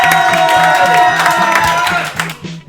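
An audience at a beer pong tournament applauds and cheers over a steady pulsing music beat. The crowd noise is loud and close, then drops away sharply at the end.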